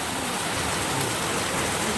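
Heavy downpour of monsoon rain, a dense, steady hiss of water pouring down nearby, continuous and loud throughout with no break.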